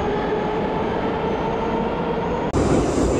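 A Moscow metro train roars loudly and continuously nearby, a dense rumbling rush that briefly dips, then resumes with a brighter hissing edge.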